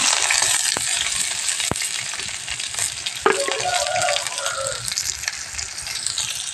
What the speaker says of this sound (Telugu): కొన్ని ఉల్లిపాయ ముక్కలు పచ్చిమిరపకాయ ముక్కలు అయితే వేసుకుంటున్నాను